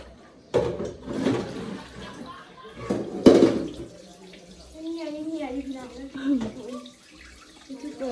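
Shrimp are rinsed under running water, with splashing and trickling in bursts while people talk over it.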